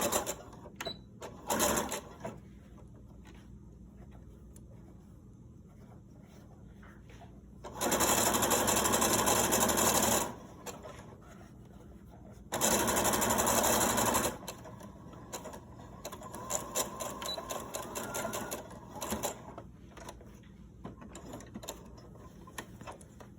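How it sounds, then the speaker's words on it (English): Sewing machine stitching a hem across fabric for a chicken grocery bag holder, in two loud steady mechanical whirring runs of a few seconds each, with quieter handling clicks before and after. "we're going to hem across here, close to the edge, and lock our stitch just before and just after"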